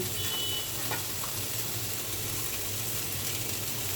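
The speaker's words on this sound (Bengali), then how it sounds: "আমি এখানে ডালটা বাগার দেওয়ার জন্য অন্য চুলায় পেঁয়াজ দিয়ে দিচ্ছি, রসুন দিয়ে দিচ্ছি" Onion and garlic fry on a second burner for a lentil tempering, giving a constant close sizzle with no voices.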